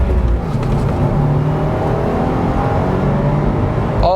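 2018 Subaru WRX or 2017 Volkswagen Golf GTI sports car accelerating hard, a loud sustained engine drone with rising harmonic tones heard from inside the cabin.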